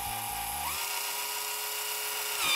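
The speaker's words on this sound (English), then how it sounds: "we got the drill bit, and we just got everything clamped down" A power drill bores a hole in a clamped plastic camera lens, giving a steady high-pitched whine that briefly stutters at the start and then runs continuously, close and fairly loud, with no talking.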